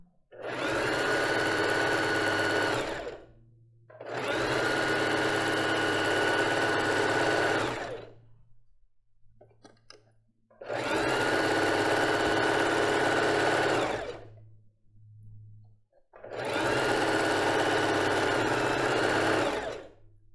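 A sewing machine stitches a lace bra in four long, even runs of steady motor whir, each a few seconds long, with short quiet pauses between them.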